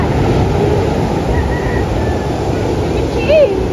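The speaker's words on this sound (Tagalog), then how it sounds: "Ang laki ng alon guys." Heavy ocean surf churns continuously at Bucana, a broad steady wash of large waves reaching the boats, with wind noise and a brief faint whistle near the end.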